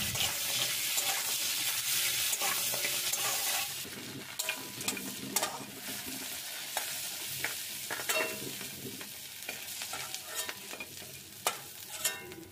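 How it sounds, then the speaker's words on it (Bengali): Prawn legs frying in hot oil in a pan, a steady sizzle with stirring and sharp scraping clicks and clatters throughout, fairly close and even in level. "এরপর আমি চিংড়ি মাছের পাগুলো একটু ভেজে নিচ্ছি।"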